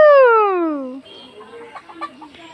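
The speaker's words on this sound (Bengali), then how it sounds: "এটা কি মুরগি কুকুরুকু" A chicken gives a long, loud falling squawk, followed by softer, short clucks close by.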